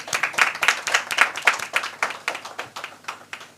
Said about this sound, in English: We can clap again.